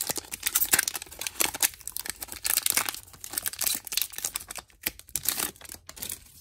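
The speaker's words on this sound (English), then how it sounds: "Next, we will open up the Dawn Wings pack." A Pokémon Ultra Prism booster pack's foil wrapper is crinkled and torn open up close, giving a run of sharp, irregular crackling and ripping with brief pauses.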